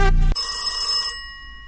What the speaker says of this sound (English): the phone suddenly rings